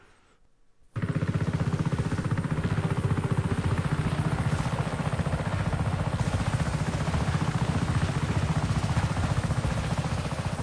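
Helicopter rotor blades in the Just Cause 3 video game make a loud, continuous thudding drone that starts abruptly after a brief quiet moment and holds steady throughout.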